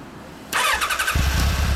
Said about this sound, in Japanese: すみません、エンジン音聞かせてもらえますか。